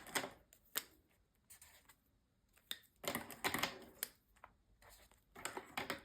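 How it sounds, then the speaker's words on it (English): Felt-tip markers being capped and uncapped one after another, a run of quiet, close plastic clicks and snaps in an irregular rhythm, with short pauses between bursts. "I should stop capping these markers."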